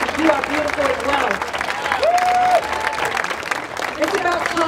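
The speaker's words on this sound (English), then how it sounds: "All the women, give yourselves a round of applause because you are beautiful as well." Clapping and scattered cheers rise from a crowd at a Black women's rally in Denver, a steady mid-level patter running under someone speaking.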